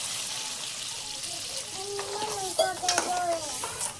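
Prawns frying in oil as a small amount of water is poured in, a steady sizzle with stirring, then brighter hissing and crackle bursts near the end as the liquid hits the hot pan.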